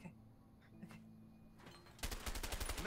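Shotgun blasts from a video game fired at thrown bottles, a rapid series of sharp bursts packed closely together in the final second, following a quieter stretch of low hum and clatter.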